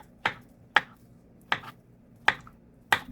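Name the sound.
knife cutting ripe plantain into smaller pieces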